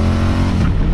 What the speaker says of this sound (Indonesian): Pindah gigi, ketinggian RPM-nya langsung spin teman-teman.